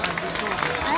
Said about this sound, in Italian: Vi chiedo un grande applauso per il maestro